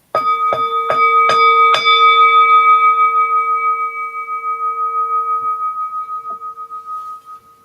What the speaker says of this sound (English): And we ring this bell in remembrance of our blessed dead.